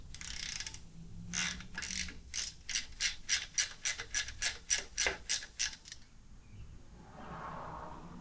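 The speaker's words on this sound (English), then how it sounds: "Go ahead and tighten these bolts." A ratchet tightens bolts on a Harley-Davidson Sportster air cleaner bracket, giving a close, quiet run of about a dozen evenly spaced clicks, followed by faint low hum and handling noise.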